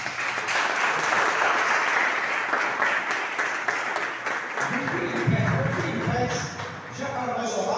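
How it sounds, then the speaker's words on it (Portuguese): A church congregation applauds during a service. A broad wash of clapping runs throughout, and voices and some tonal sound rise under it in the second half. "Vem, vamos aplaudir o Senhor."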